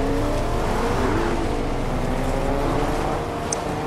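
A car driving in the Fortnite video game, a steady engine drone with a low rumble that holds without a break, loud and close throughout.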